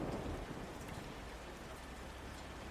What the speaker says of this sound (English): as the storm raged outside